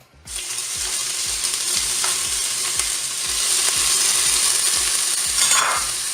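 Onions sizzle and fry steadily in hot oil inside a Cookeo multicooker, a loud continuous crackle with faint rhythmic stirring thumps underneath, and no talking.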